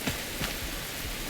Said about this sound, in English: we are in Enshrouded on a rainy morning